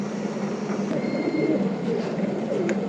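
A female pigeon in a loft coos softly, a low, steady murmur running under broad background noise with a few faint higher chirps.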